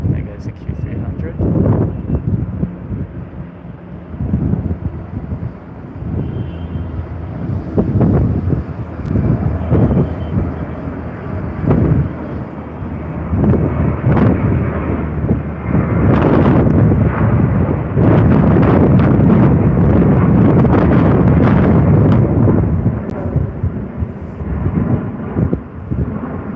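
A Q300 turboprop airliner passes at an airport, its engine roar building and swelling into a broad rumble buffeted by wind noise on the microphone, with people talking over it.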